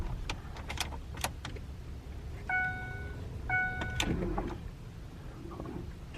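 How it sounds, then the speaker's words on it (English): A used car's power window motor whirs as the window rolls up, with a few sharp clicks and a pair of short electronic chime tones from the car, all fairly quiet and close. "I'm gonna roll up the window and then I'm gonna kill it"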